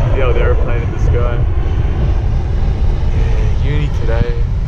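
An old aeroplane drones overhead, a loud, steady broadband engine rumble filling the background while a person talks over it.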